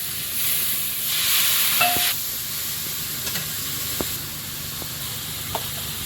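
Spice masala with turmeric and coriander powder fries among salted vegetables in a pan, giving a steady, loud sizzle and hiss throughout, with a few faint clinks of stirring and no talk.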